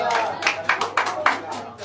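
A church congregation claps their hands in a quick run of sharp, fairly loud claps with a steady beat, the sound a little loose and roomy.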